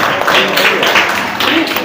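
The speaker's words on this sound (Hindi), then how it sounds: "सर के लिए विशेष करके तालियां बजाओ" An audience at a school prize distribution claps for the teacher, a steady, moderately loud patter of many hands lasting a couple of seconds with a voice faintly mixed in.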